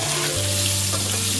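Potatoes fry lightly in oil in a pan for aloo dum, a steady, close hiss and sizzle with no pauses and no talk.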